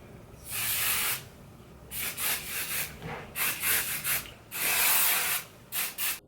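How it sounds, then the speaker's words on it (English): Several bursts of hissing aerosol hairspray sprayed onto hair, some long and some short, close by and separated by brief pauses, with no voices. "Just gonna shake it up a little, and I'm gonna spray all my hair."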